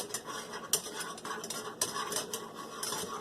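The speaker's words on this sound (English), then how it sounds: "So all you can do is just keep stirring the pot." A spoon scrapes and clinks against a pot while thickening paczki filling is stirred, irregular metallic knocks and scrapes repeating close up without talk.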